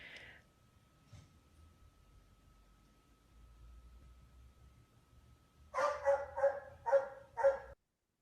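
Dogs fighting at a daycare let out a burst of several loud, close barks and snarls in quick succession after a long, fairly quiet stretch.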